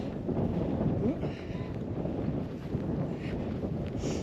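Wind gusting across an open walking route near water blows as a loud, rumbling buffet over the microphone, constant throughout with slight surges, and no clear voices.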